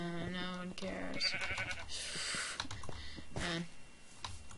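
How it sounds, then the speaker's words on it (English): Sheep bleating in the Minecraft video game, several wavering bleats over game background sounds, close and clear with no talking. "Hey, a sheep!"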